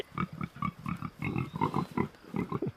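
Pigs grunt in a steady series of short, close, nasal snorts, one after another with brief pauses between.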